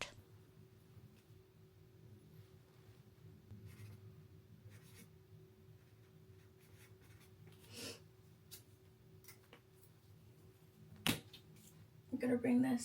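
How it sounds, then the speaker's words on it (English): Pen writing while signing a birthday card, faint close scratching strokes on paper in short bursts against a quiet room, with a sharp tap and some handling noise near the end. "First, I'm going to sign this birthday card, though."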